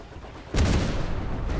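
Missiles launching from an Anvil Gladiator in the Star Citizen space combat game: a sudden heavy whooshing boom after a quiet moment, followed by a sustained roaring rumble.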